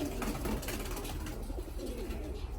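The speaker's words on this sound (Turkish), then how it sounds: "Özbek kuşları." Uzbek pigeons with crested heads and feathered feet coo softly close by, low murmuring calls over a steady background hum.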